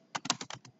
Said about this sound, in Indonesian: kita ganti dengan mengetik